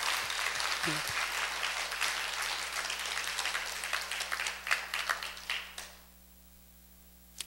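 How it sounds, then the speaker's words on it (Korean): A church congregation applauding in thanks during a Sunday sermon, a full, even round of clapping with a few brief voices and a faint hum, thinning into scattered claps before fading out. "우리 박수로 감사 표현합시다."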